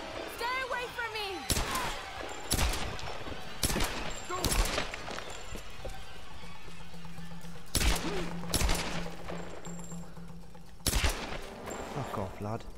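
Gunfire in the Tomb Raider video game: several loud, sharp shots in separate bursts spread across the stretch, with ambient game sounds and a sustained tone between them, and people talking over parts of it.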